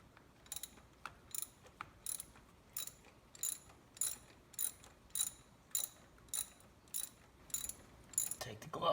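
A ratchet loosens valve cover bolts on a Kia Rio in a garage, a run of about a dozen evenly spaced, crisp clicking strokes, close up and fairly quiet.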